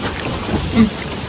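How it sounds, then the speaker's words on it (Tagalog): Strong wind rushes and buffets the microphone at an outdoor family lunch in a hut, a short blustery roar with a brief swell near the end and a faint voice. "Lakas ng hangin"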